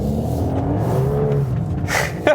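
A VW Golf 8 R accelerates in drift mode through a wet hairpin, its engine note climbing under load close by, ending in a short sharp burst.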